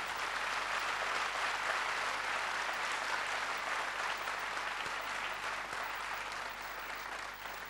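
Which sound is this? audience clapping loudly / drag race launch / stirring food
audience clapping loudly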